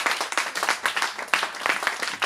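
A church congregation applauds during a sermon, with close, distinct claps falling in a quick, uneven rhythm over a steady bed of clapping from the room.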